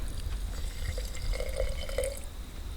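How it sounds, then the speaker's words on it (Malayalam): Water trickles and splashes into a vessel holding four tablespoons of sugar, a soft close pouring with gurgling tones midway over low background noise. "ഇത് കുറച്ച് വെള്ളം ഇതിലേക്ക് ഒഴിക്കാം."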